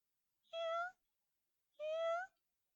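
A cat mews twice, each a clear, drawn-out call of about half a second, separated by a pause of roughly a second, with silence around the calls.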